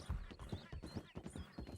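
Horse hooves clop in a quick, even rhythm in the video game Red Dead Redemption 2, a rapid series of soft, close thuds at a trot or canter.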